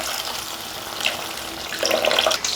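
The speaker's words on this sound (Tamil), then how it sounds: "கொஞ்சமாக தண்ணி சேர்த்துக்கிறேன்." Water pouring from a cup into paneer gravy in a pan for a dhaba-style paneer masala, a short steady splashing stream close by that swells toward the end, with no voices.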